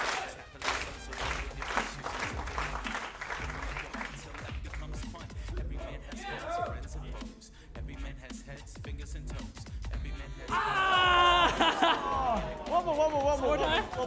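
Crowd at an eFootball Championship 2024 world finals knockout-stage event, chatter and scattered claps building to loud cheering and whooping near the end, with voices over the crowd.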